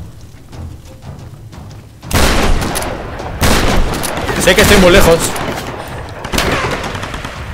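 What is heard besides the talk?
gunfire in video game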